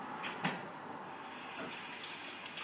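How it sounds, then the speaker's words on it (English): Water runs from a kitchen tap as hands are washed beneath it, a steady soft splashing hiss at moderate distance with a brief louder splash early on. "Just quickly wash my hands."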